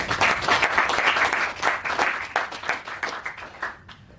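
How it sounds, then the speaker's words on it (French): Sustained applause from a conference audience, dense clapping throughout that thins slightly toward the end. "Vous pouvez applaudir Monsieur Francis Dordogne."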